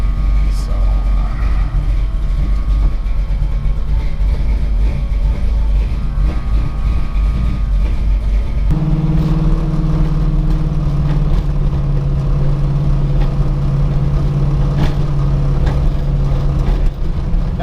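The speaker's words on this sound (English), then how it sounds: "It's got a full exhaust system on it, so it's not that loud." A pro street Ford Falcon with a full exhaust system gives a steady, low, moderately loud rumble as it runs continuously, with the engine note dropping in pitch partway through.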